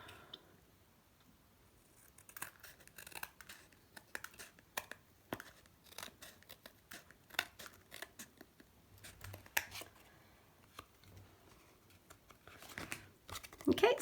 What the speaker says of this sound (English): I'm just using a pair of scissors, try and get all these out the way.